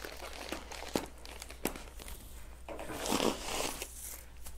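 Custom-made tissue paper crinkles and rustles as a parcel is unwrapped, close and intermittent, with a few sharper crackles and a longer rustling burst toward the end.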